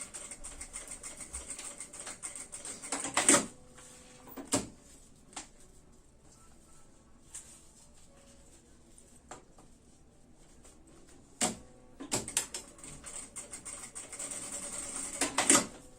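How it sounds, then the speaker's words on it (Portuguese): A sewing machine stitches fabric for a baby stroller bag in short runs of rapid mechanical chatter separated by quiet pauses, with a loud burst near the start and another toward the end. "eu passo uma costura aqui, ó."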